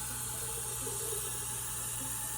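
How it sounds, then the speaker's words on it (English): Tap water runs steadily into canning jars and a pan while pickles are prepared, a continuous close hiss and splash with no talking. "So I just fill them up with water, and then I just keep filling the pan with the water"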